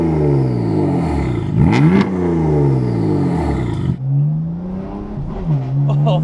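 Tuned BMW F82 M4 engine revving hard through rising gear pulls, loud and close, with a sharp break and crackle between shifts before pulling up again.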